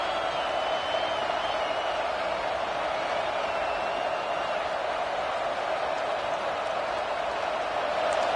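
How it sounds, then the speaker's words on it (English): Dense, steady roar of a packed stadium crowd at an LSU versus Alabama football game, loud and unbroken with no rise or lull across the whole stretch. "This offense trying to quieten the crowd on 1st and goal, and they are not cooperating."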